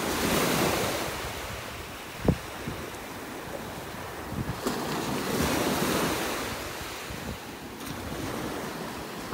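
Ocean surf rolls steadily onto a Southwest Florida beach in North Naples on a morning walk, with gusty wind buffeting the microphone, a steady wash of breaking waves and a brief sharp thump partway through.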